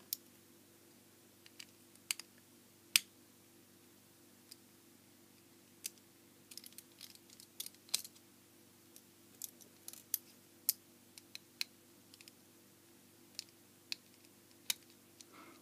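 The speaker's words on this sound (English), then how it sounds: "let's take the screws out" Small screws being undone from a chunky USB power bank with a screwdriver, faint sparse clicks and ticks scattered irregularly over a quiet background.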